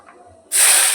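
Garlic dropped into hot oil in a wok bursts into a loud, sudden, close sizzle after a moment of near quiet, then keeps hissing steadily.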